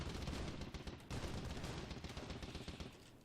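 Dense gunfire fills a WW1 video game battle, with rapid rifle and machine-gun shots overlapping continuously in a steady, loud barrage throughout.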